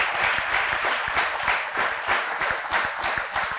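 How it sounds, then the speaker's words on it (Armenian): Studio audience at an Armenian quiz show applauds the contestants, a steady, dense burst of clapping filling the whole stretch at close range with no talk over it. "Ծափարենք մեր մասնակիցներին"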